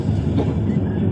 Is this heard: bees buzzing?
no